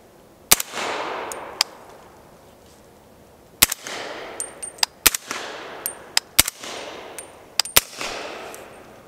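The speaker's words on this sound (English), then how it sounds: "Right now we're going to be shooting some TA targets, 220 grain, 300 Blackout." Suppressed 300 Blackout 220-grain subsonic rounds fired through a YHM Resonator K silencer at targets, a series of sharp muffled cracks, some single and some in quick pairs, each trailing a brief bassy thump and echo.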